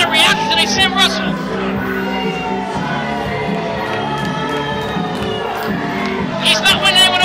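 Wrestling crowd at an indoor independent pro wrestling show reacting to a wrestler, a sustained loud roar of shouts and jeers with whoops swelling near the start and end, with no pauses throughout.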